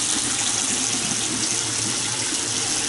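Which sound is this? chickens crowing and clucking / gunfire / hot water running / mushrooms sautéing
hot water running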